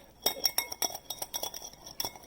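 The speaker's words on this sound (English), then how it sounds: "And then you have a whisk to just kind of mix it" A whisk beats vinaigrette dressing in a glass bowl with a quick, uneven run of close, bright clinks against the sides, about a dozen strokes in a little over two seconds.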